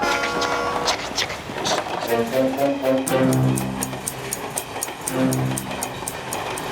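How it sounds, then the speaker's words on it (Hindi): A moving train as a comedy sound effect: steady rumbling clatter with a rising horn-like tone in the middle, loud and continuous, with voices talking over it. "देखिए ट्रेन चल रही है।"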